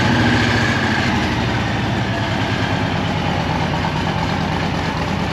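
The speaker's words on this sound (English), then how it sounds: "Let's fire the bike back up. Let it warm up before I leave up out of here." A Harley-Davidson Street Glide Special motorcycle engine idles close by, holding a steady deep rumble with a low pulsing throb throughout. Nobody speaks.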